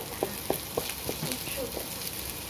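Garlic and onion sauté in a pan as the base for corned beef, a soft steady sizzle with light scattered crackles and occasional stirring taps, fairly quiet throughout.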